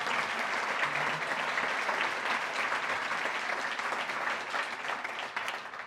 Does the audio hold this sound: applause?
yes